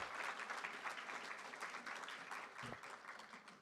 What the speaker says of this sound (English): can I request everyone to give big round of applause to BISA, Team BISA, and all the guest speakers.